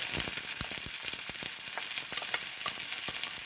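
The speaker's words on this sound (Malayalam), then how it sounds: "കടുക് നല്ലോണം പൊട്ടി വന്നിട്ടുണ്ട്." Mustard seeds splutter in hot coconut oil in a pan, throwing sharp, irregular pops and crackles over a constant frying hiss, close and loud with no voices.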